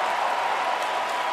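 A big baseball crowd at Miller Park during a Brewers home game roars steadily in a broad, dense wash of cheering and applause that holds at full level without a break.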